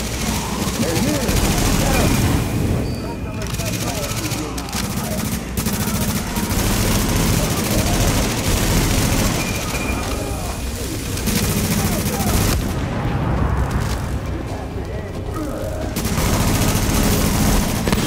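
Sustained gunfire in Tom Clancy's The Division on PC, set in Manhattan: dense, loud overlapping automatic bursts and heavy booms running almost continuously, with brief lulls and voices mixed in.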